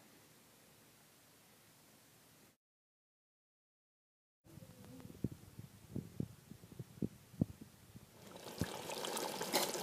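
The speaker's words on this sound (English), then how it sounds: "we add our 1 cup of lentils" One cup of lentils (biryani dal) is tipped into a pot of cooked mutton, giving a scatter of close, sharp pattering ticks that settle into a steady hiss of sizzling. There is no talk.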